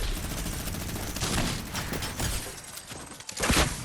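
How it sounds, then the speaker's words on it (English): Rockets fire in rapid succession in the Fortnite video game, making a dense, loud barrage of bursts and blasts that runs throughout, with a sharper impact near the end. "Rockets away!"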